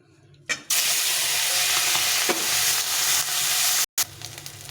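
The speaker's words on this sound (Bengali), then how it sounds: "মাছগুলো প্রথমে ভেজে নেব।" Tengra fish frying in hot oil for a chilli-slit fish curry, a loud steady sizzle that starts abruptly, breaks off for a moment near the end and then returns, with no talking.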